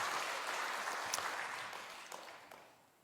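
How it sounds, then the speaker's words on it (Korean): A church congregation applauds together during a Korean Easter service, a steady wash of clapping that gradually fades and thins out over a few seconds. "우리 박수로 하나님께 영광 돌리겠습니다."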